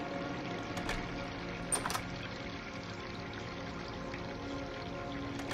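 Steady rushing of running water from a sink flooding a house in the Doom mod MyHouse.wad, a continuous even wash with a couple of brief splashy bursts, alone without talk.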